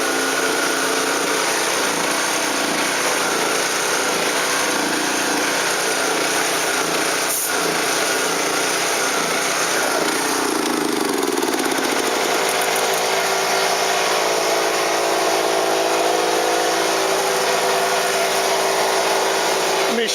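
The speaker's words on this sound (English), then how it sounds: "Let me shut off the air compressor." An air compressor runs continuously in a workshop, producing a loud, steady mechanical drone with a high motor whine; a low, throbbing pulse sets in partway through.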